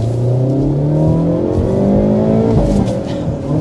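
A 2024 Hyundai Elantra N turbo four-cylinder engine revs hard and close, its pitch climbing and settling in a throaty, continuous roar with no voices.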